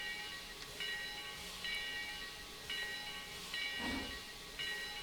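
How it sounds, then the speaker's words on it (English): Default steam locomotive chuffs from a heavy 2-10-2 in the Trainz railway simulator, a slow, regular series of hissing exhaust beats over a continuous steam hiss, fairly faint. "Let's see what the chuffs sound like."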